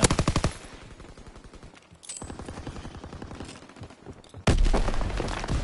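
Rapid automatic gunfire from the Call of Duty WW2 game, including the Shadow War DLC, rattles in long bursts with brief pauses, ending in a louder, closer stretch of shots.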